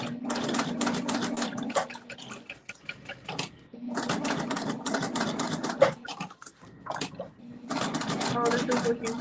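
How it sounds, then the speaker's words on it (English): A sewing machine stitching vinyl for a wallet, running in bursts of rapid mechanical whirring separated by short pauses, close and fairly loud, with people talking now and then. "I've measured it out and then I'm sewing it"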